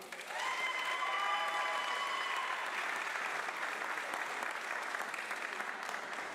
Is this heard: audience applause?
yes